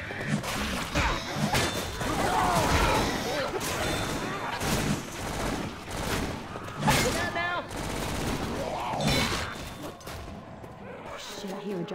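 Rapid bursts of gunfire from Left 4 Dead 2 fill the scene, loud repeated shots and crashes in clusters, with voices talking over the shooting throughout.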